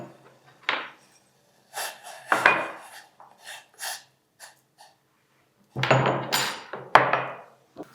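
Black peppercorns coarsely crushed by hand for a diabetes-control juice, heard as several short gritty pounding and grinding bursts with gaps of quiet between, close and fairly loud.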